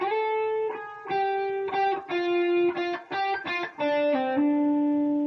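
A distorted electric guitar plays a short bluesy lick, single notes stepping and bending before settling back down, alone and fairly loud.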